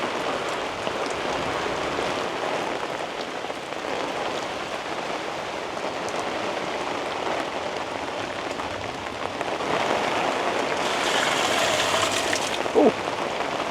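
Heavy rainstorm pounding an Onyx 270 awning, a dense, continuous patter of drops drumming steadily on the fabric throughout, growing slightly louder toward the end.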